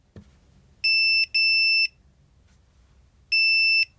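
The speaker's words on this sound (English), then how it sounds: "You'll know the factory reset is complete when you hear the following beeps" A digital deadbolt lock gives its factory reset confirmation beeps: two electronic tones close together, then a pause and a third, clear and fairly loud against a quiet room.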